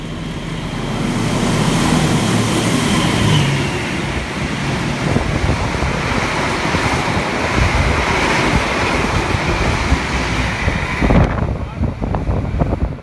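Malabar train rushing past at speed through Wates station, heard as a loud, steady roar of wind and rumbling noise that fills the whole stretch before cutting off abruptly near the end.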